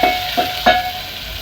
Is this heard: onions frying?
yes